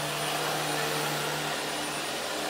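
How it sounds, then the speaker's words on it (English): A vacuum cleaner runs steadily in a hallway during pet urine cleanup, a continuous close motor whine with a constant hum and no talk over it. "this hallway that Makai is currently vacuuming"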